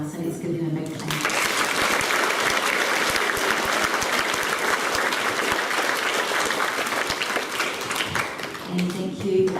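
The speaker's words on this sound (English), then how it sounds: "let's give them a big clap" Applause from an audience of children, parents and family at a school celebration assembly: dense, steady clapping fills most of the stretch after a brief spoken moment, close and sustained before fading near the end.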